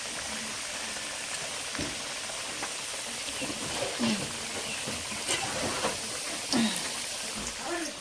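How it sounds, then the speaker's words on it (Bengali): Potatoes frying with salt and turmeric give a faint, steady sizzle and hiss, broken by occasional stirring clinks and scrapes, with a voice talking now and then over it. "এই যে আলু, মাংসের জন্য আলু ভাজাচ্ছে"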